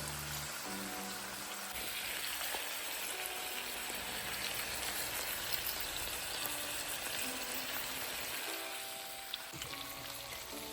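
Teriyaki salmon fillets frying in a pan, a steady dense sizzle with crackling spatter running the whole time, moderately close and fairly quiet, with a faint low hum underneath.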